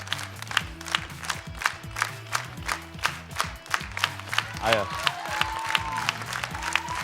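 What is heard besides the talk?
audience applause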